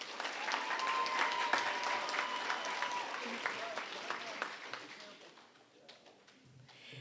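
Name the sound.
applause for students at school assembly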